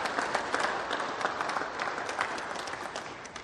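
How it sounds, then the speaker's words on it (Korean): Church congregation applauding a visiting family during a Korean Sunday worship service at Glendale United Methodist Church; steady, moderately distant clapping from many hands fills the space alone, without talk. "여러분 한번 박수해 드리겠습니다"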